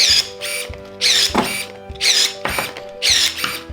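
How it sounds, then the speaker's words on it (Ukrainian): Stocker 311 / Vulcano E-30 electric pruner whirring in short motorized bursts, about four close, loud pulses with clicking pauses between them as its blades work through a 25 mm branch. "Вмикаємо секатор, розкриваємо його і ріжемо."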